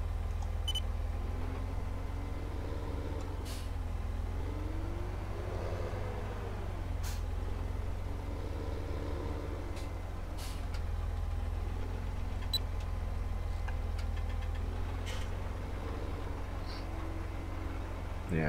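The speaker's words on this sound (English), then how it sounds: "we can drive the other tractor over here with the pallet on the front" A tractor carrying a pallet on its front loader drives across a field in Farming Simulator 17. Its engine hums in a steady, continuous drone that rises and falls in pitch, with a few faint clicks and beeps.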